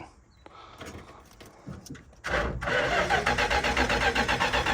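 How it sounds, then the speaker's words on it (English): A 1967 Dodge Polara convertible engine cranking over, with a few faint clicks and knocks before the starter kicks in, then a loud, steady rhythmic churn of the engine turning over, close by. "I'm gonna see if it will even crank over"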